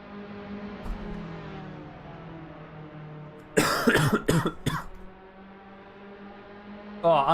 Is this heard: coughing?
yes